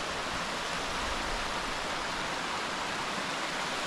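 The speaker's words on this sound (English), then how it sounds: "It's so cool with these water flows just running down." Mountain stream water rushes down rocks on a hike near May Lake toward Mount Hoffmann in Yosemite, a dense, steady roar of flowing water with no breaks, loud and close, no voices.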